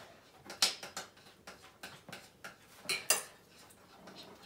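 Slime mixed in a bowl gives irregular close clicks and scrapes, several sharper taps standing out over a quiet background, with no talking.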